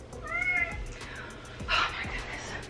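A cat meows indoors in a couple of drawn-out, rising calls, fairly close and moderately loud over a faint background hum, with no talking.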